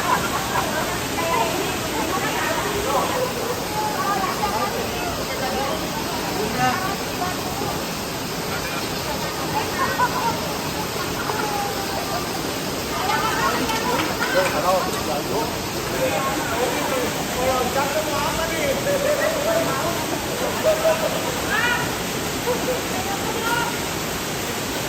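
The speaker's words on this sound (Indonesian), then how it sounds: "Jadi air terjun ini bertingkat-tingkat" A tiered waterfall on Sumba roars as a steady, loud broadband rush throughout, with faint voices and speech mixed into the water noise.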